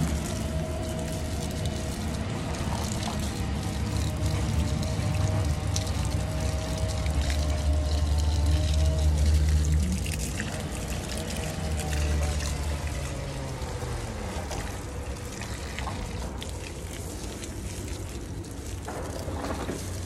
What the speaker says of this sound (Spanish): pero yo les echo agua.